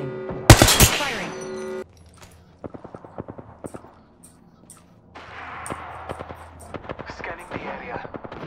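Gunfire in Apex Legends: a loud burst of shots opens, followed by a run of sharp, evenly spaced single shots and short clusters over steady game ambience.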